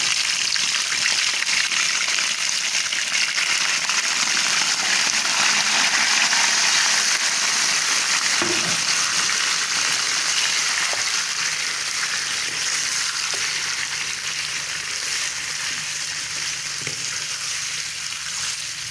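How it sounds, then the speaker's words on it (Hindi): One kilogram of beef frying in hot ghee with garam masala, a loud, dense, continuous sizzle like rushing water that holds steady throughout with a few faint knocks. "जो गोश्त था वो हमने घी के अंदर फ्राई कर लिया"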